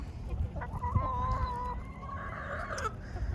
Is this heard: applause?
no